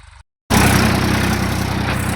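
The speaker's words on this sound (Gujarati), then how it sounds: "આપણે ટ્રેક્ટર ચલાવીએ છીએ" Tractor engine running in a farm field during ploughing, a loud steady close throbbing drone that starts abruptly after a brief silence, with no talking.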